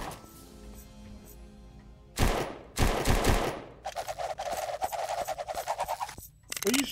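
Automatic gunfire in the video game The Puppet Master: two loud bursts, then a long, rapid machine-gun stream of close shots that runs for several seconds before a final short burst.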